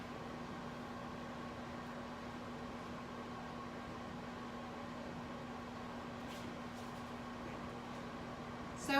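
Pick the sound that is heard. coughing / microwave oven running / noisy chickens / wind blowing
microwave oven running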